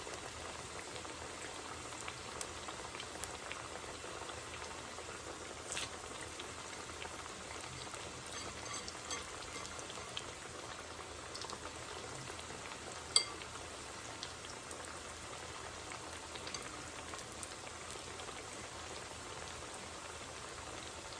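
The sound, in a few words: Kenyan maru bhajiya deep frying in oil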